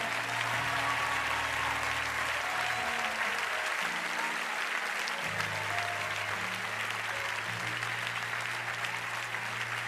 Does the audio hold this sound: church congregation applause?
yes